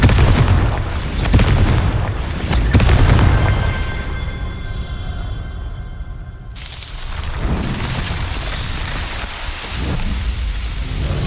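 A Confringo fire spell goes off in Hogwarts Legacy during a Merlin trial, giving rumbling booms over a crackling, rain-like wash of effects. A brief, quieter gap falls midway.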